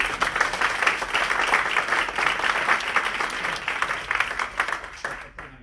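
A crowd at a B Corp panel event breaks into a sustained round of applause, dense and even clapping that holds strong for several seconds, then thins and fades out at the very end.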